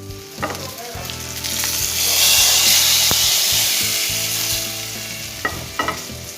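Green chilies and crushed chili fry in hot oil for a moong dal with spinach, a steady close sizzle that swells in the middle, with a few sharp clinks and scrapes of a utensil near the start and end.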